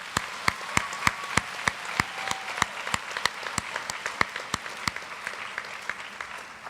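Round of applause at a high school athletic banquet, with regular, sharp, nearby claps standing out over softer clapping from the crowd, steady for several seconds.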